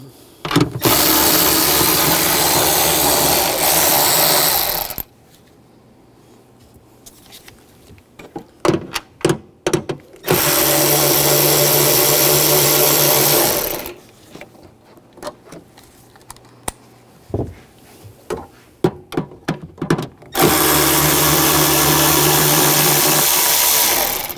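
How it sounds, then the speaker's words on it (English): A powered 8mm socket whirs in three long, steady bursts while removing tail light nuts on a 2007-2013 BMW 328i, with clicks and handling noises in the pauses between. "there's some nuts holding it on. Use a 8mm socket. Take those nuts out."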